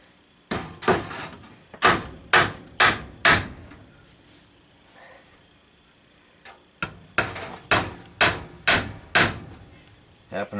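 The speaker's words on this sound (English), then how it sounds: "Got my trusty lightweight framing nailer," Sharp blows from a lightweight framing hammer on wood in two quick bursts of five or six strikes each, separated by a quiet pause, close and loud, during wood shop repairs.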